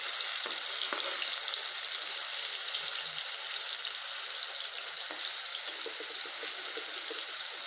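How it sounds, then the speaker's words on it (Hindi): Homemade paneer frying lightly in a pan, a steady close sizzle with faint stirring clicks, no voices. "जितना पनीर है सबको मैं थोड़ा सा हल्का सा बिल्कुल वाइट ही रहने देना है, फ्राई कर लूँगी"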